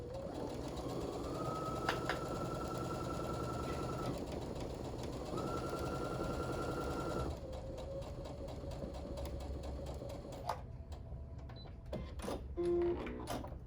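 A sewing machine stitching fabric gives a faint, steady mechanical hum with shifting tones as it runs and pauses. Small clicks follow near the end.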